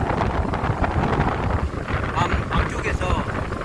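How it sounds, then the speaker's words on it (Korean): Strong southerly wind buffeting the microphone beside a river, a constant loud rushing roar with gusty surges throughout. "바람은 지금 엄청 많이 불어요."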